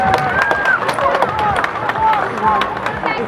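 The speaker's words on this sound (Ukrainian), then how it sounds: "І ми зараз їм всім подаруємо наші оплески, оплески нашим визволителям." A crowd at a village celebration in Turiisk applauds war veterans, scattered clapping mixed with crowd chatter and a few rising voices, uneven and fairly close.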